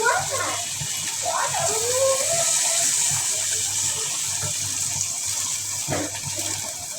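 Water pours steadily and closely for several seconds into a cooking pan of tomato and tilapia fish curry, while a person talks over it.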